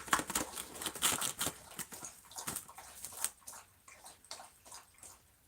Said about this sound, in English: She's drinking lots of water.